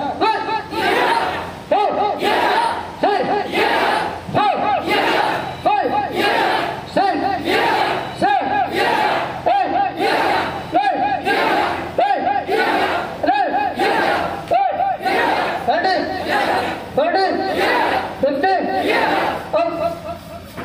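A group of voices at scout training shouting loudly in unison during a double-punch drill, short sharp cries repeated in a fast steady rhythm, like a call-and-response drill.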